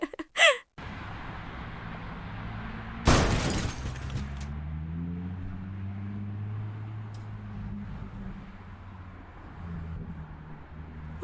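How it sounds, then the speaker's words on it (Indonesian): A car window shatters when a breadfruit falls on it, a single sharp burst of breaking glass followed by a quieter idling engine hum, with a brief knock just before. "Kaca mobil kita pecah. Ini gara-gara kejatuhan buah sukun itu ya?"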